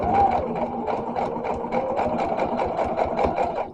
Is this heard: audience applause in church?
no